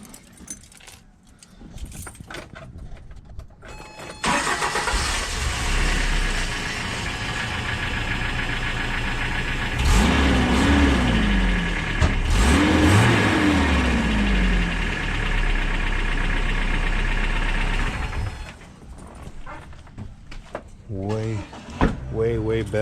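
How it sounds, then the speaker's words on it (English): Toyota pickup truck with a new aftermarket muffler, part number 9005-5802: the engine starts after some handling noise, then settles into a steady low idle with two brief revs, close by, with a voice talking near the end. "This is the muffler that we got for the truck."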